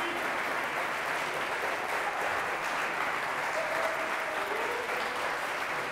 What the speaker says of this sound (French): Vous avez le soutien de tous les tontons et les tatas qui vous applaudissent très fort